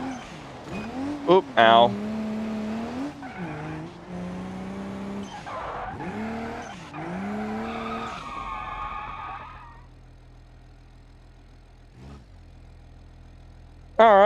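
Engine noise and tire squeal from a car drifting in the BeamNG driving game, with sliding whines and revving through the middle and a player yelling and exclaiming over it before things quiet down near the end.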